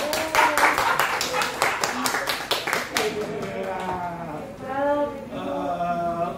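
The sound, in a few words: congregation clapping hands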